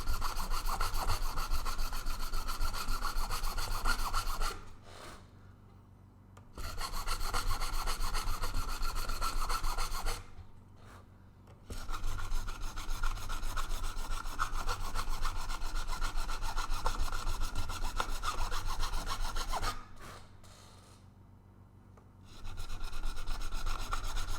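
Guitar frets are sanded to remove scratches before polishing, producing long, steady rasping back-and-forth rubbing strokes, close and even, with three short pauses between passes.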